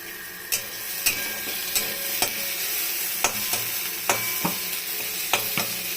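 Onions fry in a pan for a prawn, cauliflower and eggplant curry, a steady sizzle broken by repeated scraping knocks of a spoon stirring at irregular intervals, with no talking.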